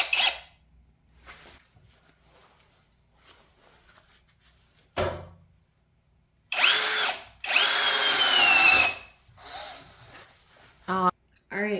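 A brushless DEKOPRO cordless drill with a 7/8-inch bit boring into drywall, two loud close bursts of high whirring and grinding, separated by quieter handling clicks and brief voices.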